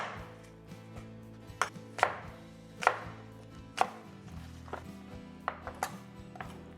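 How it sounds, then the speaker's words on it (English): A knife cubing an apple on a cutting board, with about eight crisp, uneven chops cutting through a faint steady background hum, close and clear with no one speaking. "I'm just going to cube the apple"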